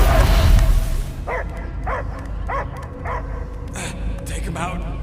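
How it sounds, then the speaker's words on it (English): Dog barking in the video game Marvel's Guardians of the Galaxy: a string of short yips and barks, several in a row at a moderate distance, over a steady game soundscape with some talk at the start. "I hear only barking."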